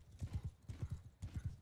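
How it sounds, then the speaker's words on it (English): Hooves of a horse in the medieval battle game Bannerlord clop in quick galloping bursts of three or four beats, fairly close and clear, with no talk over them. "Your horse, it's stamina good, Ahmed?"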